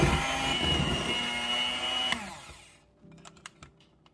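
An electric mixer whirs steadily while creaming powdered sugar into frosting, a loud continuous motor drone that cuts off midway and leaves faint clicks and light taps.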